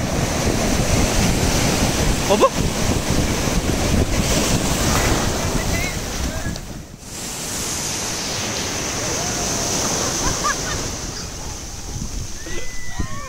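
Sea waves wash continuously onto Sagareshwar beach, a loud, full surf roar mixed with heavy wind buffeting the microphone, dipping briefly midway, with a short voice heard once.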